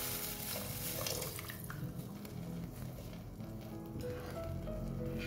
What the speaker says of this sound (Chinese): 倒入1000 cc 的蔬菜高汤